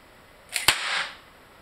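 A single-action revolver fires once in a cowboy fast-draw run, a sharp crack preceded by a faint click, loud and close, then a short fading tail.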